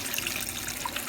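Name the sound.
water filling portable washing machine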